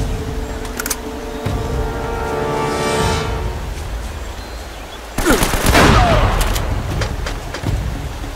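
Gunfire in Uncharted: Drake's Fortune, with loud sustained bursts of shots and rumbling battle noise, rising to a dense barrage partway through and staying loud to the end.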